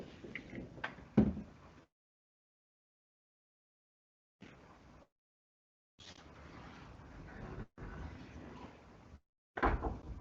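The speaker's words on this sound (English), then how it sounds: "Just let me close the door first." A door is pushed shut indoors with a single dull knock near the start, followed by choppy stretches of room noise and a few short taps.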